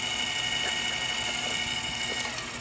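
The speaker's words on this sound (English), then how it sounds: "You kind of get that gearbox sound that you don't get from the AC motor, but it's still pretty quiet." A Turin SK40 conical coffee grinder runs while grinding beans, its gearbox giving a steady, fairly quiet mechanical whir with fine ratcheting texture and a few light clicks near the end, continuous throughout.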